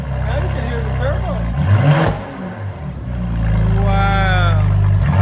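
Turbo whoosh and whistle from a straight-piped 2019 Mercedes GLE 43 AMG, a rising whine over a loud, steady engine drone while people talk close by.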